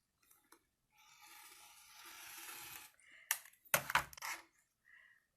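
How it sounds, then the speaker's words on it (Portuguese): Scissors cutting straight through patchwork fabric along a black thread line: a soft, sustained rasping slice, then a few sharp clicking snips close by, quiet overall. "Agora eu vou costurar, vou cortar ele reto."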